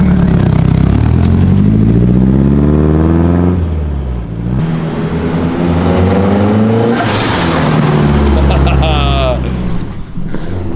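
A Nissan S15 sports car engine revs up and down loudly several times, the pitch climbing and dropping in long sweeps, with a clattering burst near the end.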